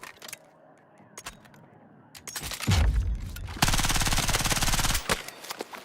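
Automatic gunfire from a weapon in Battlefield 6, heard as sharp scattered single shots followed by a loud sustained burst of rapid fire, with a couple of closing shots.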